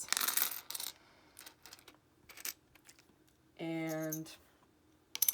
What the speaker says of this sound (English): So let's say I have this pile of coins